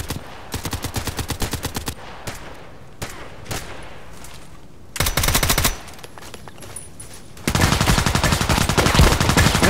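Automatic gunfire in the first-person shooter Contract Wars, heard as rapid bursts of shots separated by brief pauses, with a longer sustained volley near the end.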